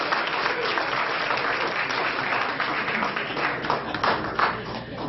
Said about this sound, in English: So please give a warm big round of applause.